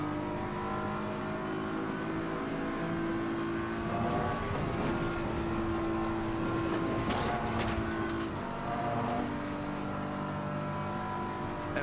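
A BMW race car laps Spa in a racing video game, its engine a steady droning whine that rises and falls with gear changes, continuous and moderately loud with no one talking.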